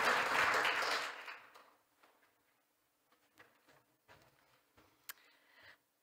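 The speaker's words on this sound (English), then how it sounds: "Round of applause, please." An audience at an annual meeting on round table dialogue breaks into a short burst of applause that quickly dies away after about a second, leaving near silence with a few faint scattered claps and small clicks.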